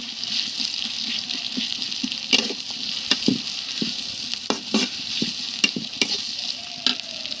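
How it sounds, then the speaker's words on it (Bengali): Onions frying in a pan with salt and turmeric, a steady close sizzle broken by repeated scrapes and taps of a stirring spoon against the pan. "আমি পেঁয়াজগুলো একটু সুন্দরভাবে ভেজে নিচ্ছি।"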